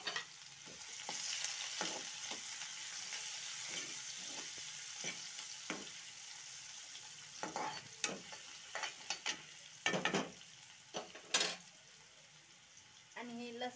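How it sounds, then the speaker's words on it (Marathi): Finely chopped onion hits hot oil with cumin seeds in a pan for an okra and gram flour dish. Steady close sizzling and frying continue throughout, broken by repeated scraping and stirring clatters from a spoon. "आपण आता बारीक चिरलेला कांदा टाकूया त्याच्यामध्ये,"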